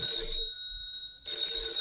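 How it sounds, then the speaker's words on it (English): A telephone ringing in a cartoon, two close electronic bell rings separated by a short pause, loud and clear with no talk over it. "Oh, that's the phone."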